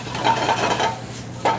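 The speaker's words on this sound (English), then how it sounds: "we have our kale sauteing up here" Kale wilts in a sauté pan over a soft, continuous sizzle, with repeated metallic scraping and clinks as the greens are stirred close by.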